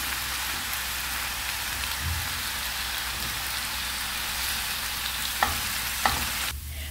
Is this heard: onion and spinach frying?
yes